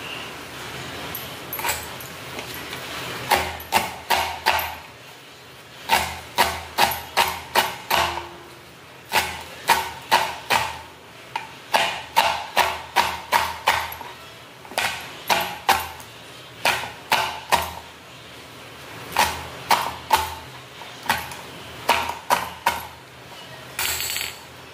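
Baphali wild leafy greens are chopped with a knife, sharp close strikes coming in quick rhythmic bursts of several blows separated by short pauses.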